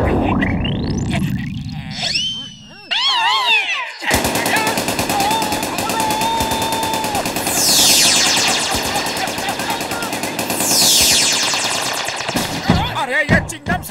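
Rapid cartoonish gunfire bursts with zany whooshing and warbling effects, loud and busy, under brief voices and music.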